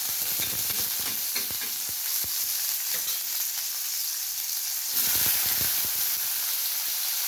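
Garlic, onion and tomato sautéing in oil for a squid dish with okra and pechay, a steady loud sizzle with stirring scrapes and brief spatula clicks throughout, growing a little brighter and hissier near the end.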